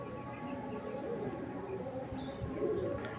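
A prize racing pigeon coos in low, soft, repeated murmurs that run steadily for a few seconds over a dense background hum.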